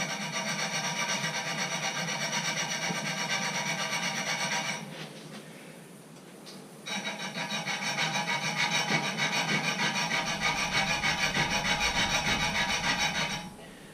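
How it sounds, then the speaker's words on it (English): Steady rasping of a small semi-round-ended file scraping back and forth, deepening a score mark in wood during a guitar build, close and continuous, with a brief pause midway before the filing resumes. "we start with another little file which has a semi-rounded end, and we'll just make that score mark a little bit deeper"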